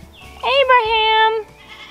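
A tiny young male goat, one of a set of farm kids, gives a single clear, wavering bleat that lasts about a second, close by and loud.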